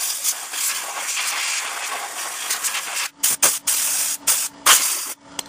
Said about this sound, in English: It's my rust converter now.